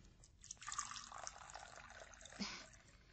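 Water trickles and splashes as it is poured for drinking, a faint continuous liquid pour with a brief louder splash near the end and no talking over it.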